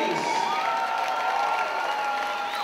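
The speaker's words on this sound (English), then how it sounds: "A round of applause for these two ladies." A crowd at a K1 kickboxing event applauds and cheers after a women's bout, a full, continuous roar of clapping with a faint steady tone running beneath it.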